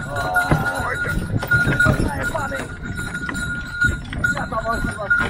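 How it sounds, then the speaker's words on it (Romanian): Horse hooves clop over ground while the animal climbs a steep slope in mountain forest, a busy, uneven stream of steps with scuffs and rustling, under someone talking. "Aici trebuie să-și ia calul avânt."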